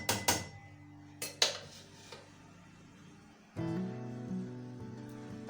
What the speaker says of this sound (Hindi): अब इसको चम्मच की मदद से अच्छी तरह मिक्स कर दूंगी ताकि मसाले सारे अच्छी तरह मिक्स हो जाए।